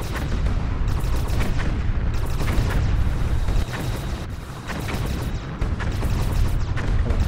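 Heavy weapons fire rumbles continuously in the sci-fi game Battlevoid: Harbinger, a dense stream of booming, artillery-like blasts with sharp bursts layered over a steady low roar, loud and close.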